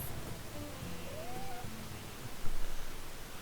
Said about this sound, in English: I don't know if you can hear, but the cat has arrived.